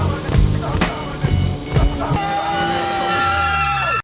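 A car speeding off hard during a chase: a few sharp knocks give way to a loud, rising engine whine and tire screech that carries on steadily to the end, with no talking.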